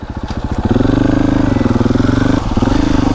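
A motorcycle engine idles and pulses close by, a loud throbbing rumble with a rapid regular beat that steadies into a continuous drone, alone without talk, at an abandoned race circuit.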